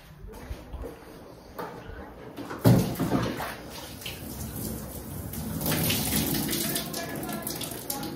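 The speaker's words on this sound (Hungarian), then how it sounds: "Kiborítom a szárítógépből a vizet." Water is tipped out of a tumble dryer's collection container, sloshing and splashing loudly after a quieter start, with a steady pouring spatter that continues to the end.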